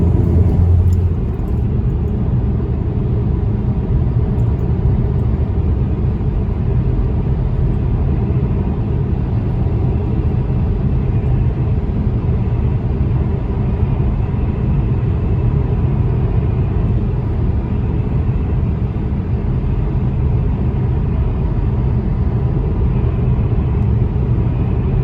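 Steady low rumble of a car cruising along a highway toward Seattle, heading south out of Leavenworth, with constant road and engine noise that holds even and unbroken throughout.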